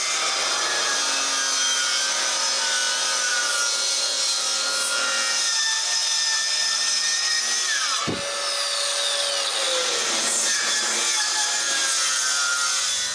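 Hand saw cutting through the ends of wooden bookcase boards, a steady loud rasping stroke after stroke, with a brief pause and a scraping shift of the blade partway through.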